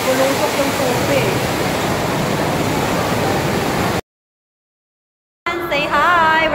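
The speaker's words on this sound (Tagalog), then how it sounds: "bubulusok yung tubig" Water gushes down the indoor waterfall at Gardens by the Bay in a loud, steady broadband roar, then breaks off briefly before returning with a voice speaking over it.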